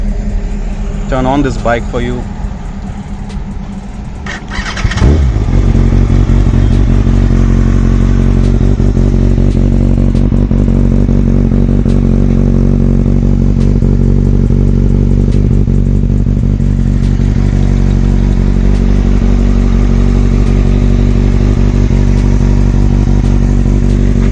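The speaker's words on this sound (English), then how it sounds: "I'll just turn on this bike for you." Kawasaki ZX6R sport motorcycle with K&N air filters starting up, a short cranking whir, then the engine catching and settling into a loud, steady close idle that runs to the end.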